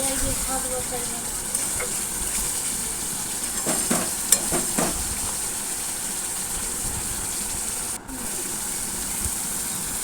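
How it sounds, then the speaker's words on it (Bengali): Fried potato pieces stir-fried in a thick spice masala, giving a steady close sizzle with scraping stirs throughout and a brief clatter near the middle. "দিয়ে আরও কিছুক্ষণ নাড়াচাড়া করে কষিয়ে নেব"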